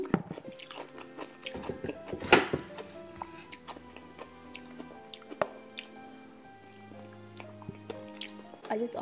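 Crunchy bites and wet chewing of sour dill pickles, close and intermittent, with a sharp crunch near the start and smaller squishy chews following.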